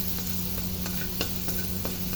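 Ginger frying in a pan with oil, a steady soft sizzle under a low constant hum, with occasional faint stirring clicks from a utensil.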